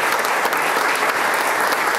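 A crowd at an awards event applauds the groundskeepers' work on the pitch, loud continuous clapping from many hands, close and sustained with no voices standing out.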